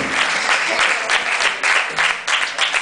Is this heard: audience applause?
yes